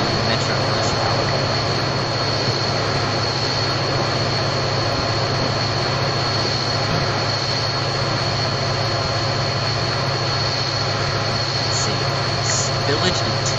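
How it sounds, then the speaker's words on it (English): A passenger train passes in Train Simulator 2016 on a Metro commuter line at Naperville, a loud steady rumble and drone that holds through the whole stretch. "Oh, another passenger train."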